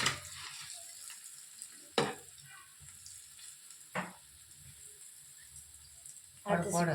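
Bread slices for bread halwa sizzle steadily in hot oil, a continuous frying hiss with occasional sharp spatters and clinks, close and fairly loud.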